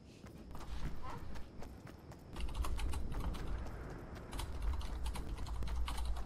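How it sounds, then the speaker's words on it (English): Computer keyboard typed on while playing Fortnite, rapid irregular key clicks in bursts over game sounds and low rumble, close and clear, no talk. "I'm typing."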